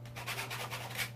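A dry paintbrush scrubs and pushes paint across a surface in repeated brushy strokes, a soft rasping rhythm of about five quick rubs, close and fairly quiet over a steady low hum.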